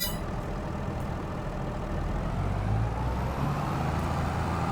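Engine of a vehicle driven by the AI in Farming Simulator 22 during a grain-hauling run for sorghum, a steady low rumble and drone that holds level the whole time with no voices.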